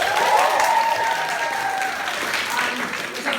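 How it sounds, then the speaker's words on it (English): Audience applause at a live improv comedy show, steady clapping from a crowd with a voice speaking over it in the opening seconds. "Round of applause for Matt, please."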